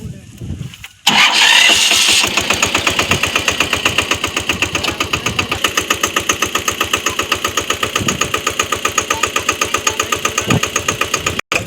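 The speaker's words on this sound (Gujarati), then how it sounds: "અત્યારે જો અમારા ભાઈ અહીંયા ટ્રેક્ટર રાખે છે।" A tractor engine cranks and fires up, then settles into a steady, loud, rhythmic diesel idle with regular chugging pulses close by, with occasional voices on a farm.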